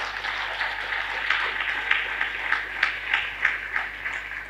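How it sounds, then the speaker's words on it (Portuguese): Applause from an audience at a workshop in Angola, a continuous spread of clapping with a few sharper claps standing out in a loose rhythm, moderately distant and without speech. "Mais uma salva de palmas para..."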